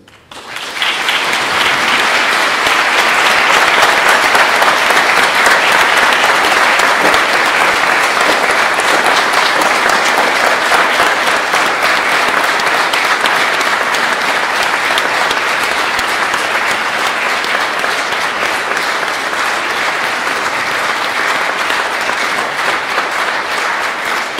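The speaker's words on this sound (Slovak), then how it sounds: "za to im patrí naozaj ešte raz obrovský potlesk" An audience at a concert in Teplička nad Váhom gives loud, steady applause that starts abruptly and carries on for over twenty seconds, a dense wash of clapping with slight fading toward the end.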